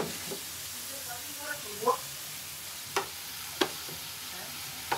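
Food sizzling and frying in a pan during a late-night home cooking session, with steady hiss and occasional knocks of a utensil against the pan, a voice briefly heard nearby.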